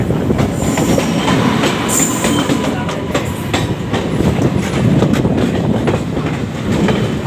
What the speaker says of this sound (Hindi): यहाँ हमारी मुलाकात होती है किसी ट्रेन से